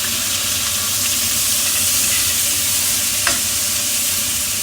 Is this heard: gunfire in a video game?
no